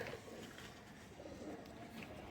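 Young pigeon chicks from a flying-breed loft coo softly amid a busy backdrop of low fluttering and shuffling, with a few brief higher calls standing out over the continuous murmur.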